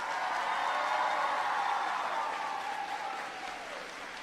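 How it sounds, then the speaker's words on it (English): An audience applauds teachers at a school gathering: steady, dense clapping that starts loud and slowly fades over a few seconds, with no voices over it. "Students, clap for your teachers."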